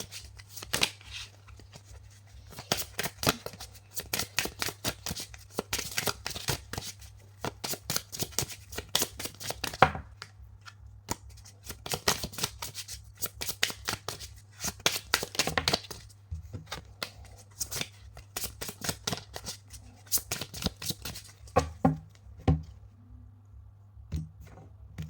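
Tarot or oracle cards riffle and slap in rapid bursts through a long shuffle for an Yggdrasil reading. The crisp card noise comes near and steady over a low constant hum, and no one speaks.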